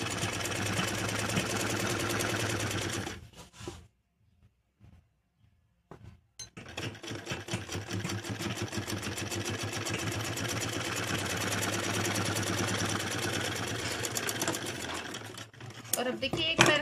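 A sewing machine stitches a full-flared Punjabi Patiala salwar in rapid, steady bursts of needle clatter, pausing briefly near the start before running continuously again, with someone talking between the runs.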